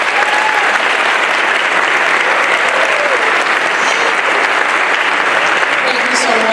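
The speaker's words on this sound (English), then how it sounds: "Let's give her a round of applause by herself." Loud, continuous applause from a concert audience at an honor choir and band performance keeps up at an even level throughout, with faint voices mixed into the clapping.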